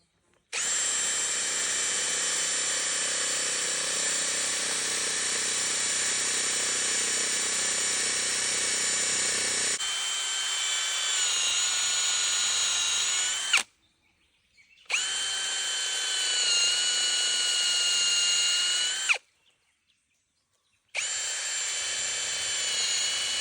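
A power drill whines steadily and loudly, then cuts out and restarts in two shorter bursts, its pitch wavering under load as it bores into a hardwood eucalyptus log.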